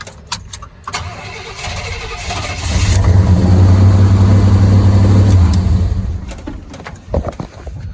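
A 1988 Chevrolet Scottsdale pickup engine cranks and catches after a new gas tank install, settling into a loud, steady idle for several seconds before shutting off, with a few clunks and knocks around it.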